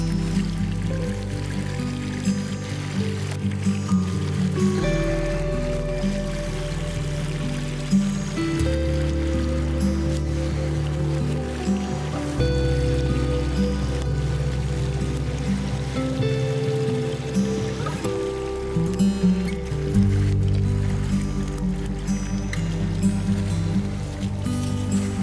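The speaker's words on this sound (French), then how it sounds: "j'ai suivi le ruisseau" A flowing stream followed along a walking route outdoors, with a steady, continuous wash of running water close by and no talk over it.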